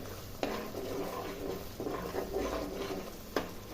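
Garlic-coriander paste being stirred into a simmering gravy in a pan, with a steady wet bubbling hiss and a few sharp spoon scrapes and taps against the pan, close and moderately quiet, no talking.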